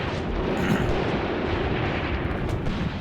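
Grenades and other heavy blasts go off in a WW2 North African combat game, a dense, continuous rumble of explosions and booming fire with no clear gaps.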